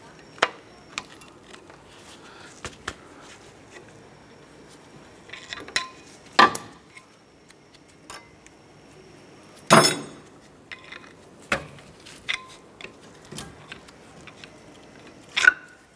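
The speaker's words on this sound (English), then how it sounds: "Remove your pads from the shims here." Brake pads being pulled from their metal shims on a 2006-2013 Chevrolet Impala give sparse, scattered metallic clinks and taps, some louder knocks among quieter rattles, spread across a quiet garage background.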